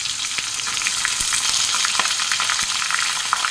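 Cut eggplant frying in oil in a pan, loud dense sizzling and crackling throughout with occasional spatter pops, no voices.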